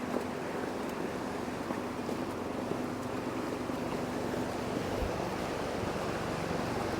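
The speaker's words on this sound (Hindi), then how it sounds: "यही नदी है भाई जो बालटाल से होते हुए जाती है आगे" A steady rushing of flowing water from the river through Baltal on the Amarnath trek fills the scene, constant and broad like a fast river, with a faint breeze over it.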